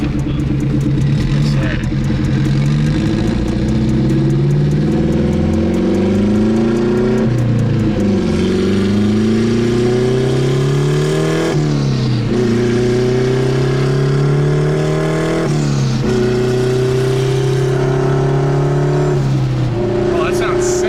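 Derby car engine revs loud and close in repeated rising and falling pulls, each climbing then dropping back, roughly every few seconds without pause, with no voices.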